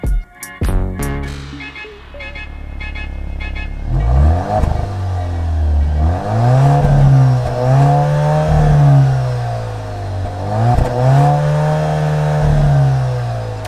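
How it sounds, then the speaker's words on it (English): An Alfa Romeo Giulia turbocharged car accelerating at full throttle in drive, a loud engine roar climbing in pitch through several gear shifts with dips and surges, close and steady, no talking. "we're just going to floor it and see what happens"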